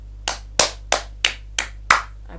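Six sharp hand claps ring out at a steady, even pace, with a faint seventh, clear and close against a low background hum.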